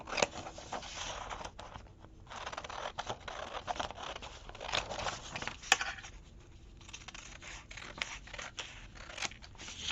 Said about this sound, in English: I'm just going to cut this one out.